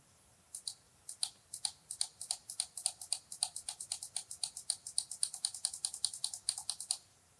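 Arrow keys on a computer keyboard are tapped in a rapid, fairly even run of crisp clicks, close up and clear, lasting several seconds with no talking.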